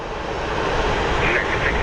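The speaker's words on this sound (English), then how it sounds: "we get super, super close to the planes that are going to pull into the gate" A steady, loud roar of an airplane engine close by, a broad continuous rumble with a faint whine rising near the end.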